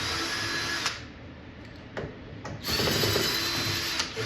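A power drill drives screws back into a Pole Position arcade cabinet under restoration. Close, steady whirring runs with brief pauses and small clicks between them, and no talking.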